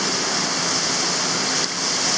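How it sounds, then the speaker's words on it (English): Water pours over a water slide's waterfall with the pump running, a loud, close, continuous hissing rush that stays level throughout, with a tiny dip near the end. "Here comes the water again."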